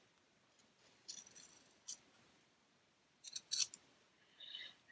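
Scissors snip through quilting fabric for an English paper piecing quilt, giving a series of short, crisp close-up cuts in irregular bursts with a brief faint rustle at the end.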